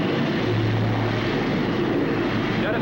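A spacecraft engine roars in a 1979 film, giving a steady, dense, loud rumble with no pauses throughout.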